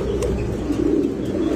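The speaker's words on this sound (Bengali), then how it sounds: "এগুলো হচ্ছে বিউটি হোমা কবুতর" Beauty homer pigeons coo close by in low, rolling murmurs that run without a break through the short stretch, over a faint steady background hum.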